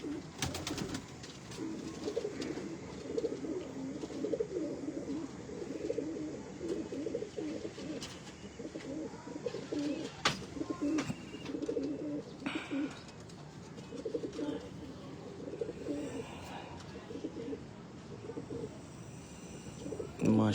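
Pigeons from a Jhang Road breeder's rare Jonsre breed, a near steady low cooing that rolls on and off at close range, with some bird chirps and soft handling noise around it.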